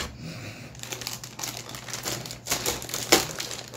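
A large plastic bag wrapping a toy figure's parts crinkles and rustles close by in irregular bursts, with a sharper crackle near the end and no talk.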